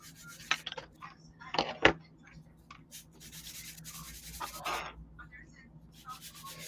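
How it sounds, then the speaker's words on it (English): Hand sanding on dollhouse-scale miniature wooden furniture: steady scratchy rubbing strokes close by, with a few sharper scrapes and knocks near the start. "I'm not just sanding on my floor. But they're sanding sawdust all over my floor."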